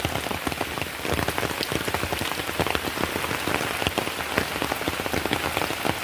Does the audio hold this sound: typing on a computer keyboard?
no